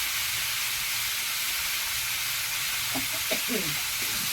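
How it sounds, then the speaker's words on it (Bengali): Tomatoes frying in an uncovered pan in a home kitchen, a constant soft sizzle and hiss with light stirring, and a faint voice briefly murmuring in the background near the end. "ঢাকা দিয়ে রেখেছিলাম ঢাকাটা খুলে নেড়ে চেড়ে ভেজে নিচ্ছি টমেটোটা"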